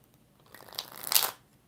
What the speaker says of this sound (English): 3 more shuffles for Anna.